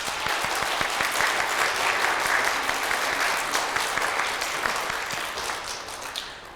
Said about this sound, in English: Let's give them a little encouraging round of applause.